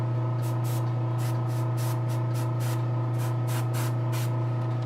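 Spray paint goes on a Giganta figure in heavy, repeated hissing bursts, close and steady over a constant electrical hum, with about a dozen short pulses in quick succession.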